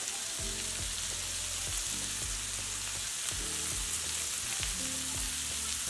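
Tomatoes, a handful of coriander, mint and curry leaves fry for a spicy village-style tomato-onion chutney, giving a constant dense sizzle over a recurring low droning hum.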